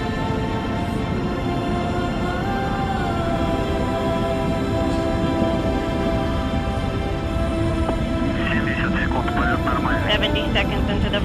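Launch vehicle in flight with stages 1 and 2 burning, a continuous loud roar and rumble throughout, with radio voices of launch control calling status over it.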